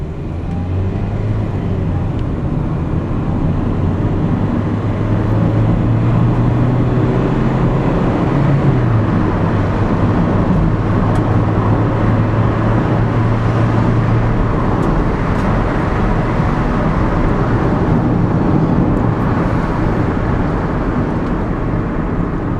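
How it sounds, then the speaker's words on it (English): A 2002 Toyota Celica GT accelerating hard from a standstill on a road test drive, with a steady loud engine drone and rising tone under broad road and wind noise, continuous throughout. "Okay, so that's about how long it takes to get from 0 to 60, or maybe not."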